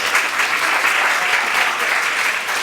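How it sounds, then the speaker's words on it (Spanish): An audience applauds steadily at a talk, dense sustained clapping from many hands filling the whole stretch without a break. "palmas para la compañera que sabe perfectamente"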